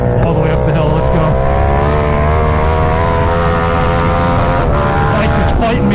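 A KTM Super Duke motorcycle accelerates hard out of a corner on a hill with its rear wheel spinning, giving a loud, sustained engine drone with slowly climbing pitch under heavy wind roar, close throughout.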